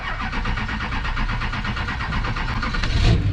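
A Chevy LBZ Duramax diesel engine cranks and fires into a steady, loud idle with a rhythmic mechanical chatter, rising in level near the end as it catches, with no talking.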